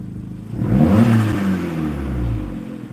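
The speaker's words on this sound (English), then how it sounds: "I'm going to do one rev because the neighbours will get they already hate this thing because it's super noisy" A very loud car engine gives a single close rev, climbing from idle to a throaty peak and then falling back to a rough, rumbling idle, with no talking.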